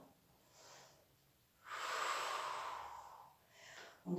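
Deep breaths in and out during a Pilates breathing exercise: a soft exhale, then a long, strong airy breath lasting about two seconds, and a short final inhale, all close to the microphone with no talking.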